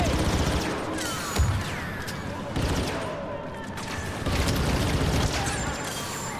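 Rapid gunfire and a grenade blast rattle through a first-person shooter video game, with dense bursts of shots and heavy booms in quick succession, loud and near, while game character voices call out between volleys.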